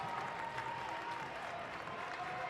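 Basketball crowd at a men's college game between Ripon and Grinnell, cheering and applauding in a steady continuous wash of noise at moderate distance, with no talk over it.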